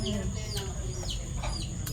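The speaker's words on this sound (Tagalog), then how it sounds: "nagugulo po yung mga manok at gawa ng dumidilim na eh ihahapon na nila" Several chickens cluck and squawk close by at dusk, in a restless, overlapping chorus over a steady low background rumble.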